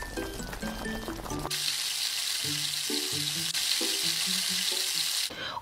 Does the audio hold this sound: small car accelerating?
no